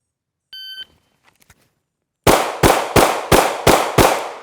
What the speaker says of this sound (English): 6 shots, left, right, left, right, left, right